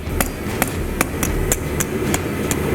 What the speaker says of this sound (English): come in with my hammer angled towards me, create a little reverse taper in here